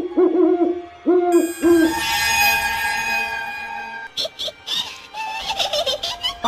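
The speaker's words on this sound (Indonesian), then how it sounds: "burung hantu yang hanya terdengar suaranya saja juga merupakan pertanda" A low owl hoot repeats several times at the start, followed by a sustained bright tone and a series of short, sharp clicks and calls.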